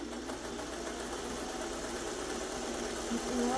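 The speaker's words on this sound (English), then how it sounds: "I'm just going to flip it over and run that seam again from the other side" A sewing machine stitches a quilt block seam, giving a steady, even mechanical drone that runs unbroken at moderate level from start to finish.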